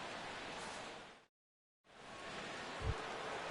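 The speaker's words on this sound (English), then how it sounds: "the rain continues to fall here" Steady rain falls on a baseball stadium in a video game, a constant broadband hiss that cuts out completely for about half a second, then resumes with a brief low thump near the end.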